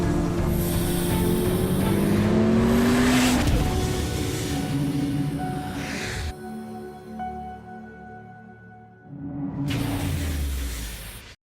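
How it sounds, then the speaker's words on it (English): A Chevrolet Corvette C8 ZR1 roars past with a loud, rising engine note that climbs and then cuts off. After a quieter stretch, the car makes a second loud pass. "you can hear the car as it flies past the screen"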